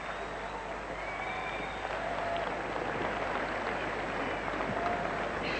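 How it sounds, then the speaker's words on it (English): An arena crowd at the 1994 Lillehammer Winter Olympics applauds Torvill and Dean's ice dance free dance, a dense, continuous wash of clapping and cheering that holds steady throughout. "receive a tremendous round of applause, well deserved"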